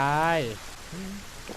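Rain falls in the survival game Solarpunk as a soft, steady hiss, heard beneath someone talking.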